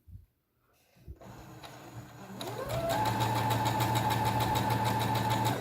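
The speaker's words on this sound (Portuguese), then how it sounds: "Eu tô costurando bem em cima da marquinha do viés" Sewing machine stitching bias binding onto fabric for a sousplat (charger plate) cover, starting after a few soft handling clicks and ramping up to a steady, loud motor whir that runs on alone.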